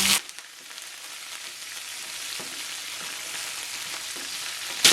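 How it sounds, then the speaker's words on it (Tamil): Mustard seeds, fennel, onion and curry leaves sautéing in oil for a beetroot stir-fry, a continuous even sizzle up close after a brief opening clatter, with a faint knock or two and a sharp bump at the end. "மிக்ஸ் பண்ணி போட்டு 2 நிமிஷம் வதங்க விடுவோம்"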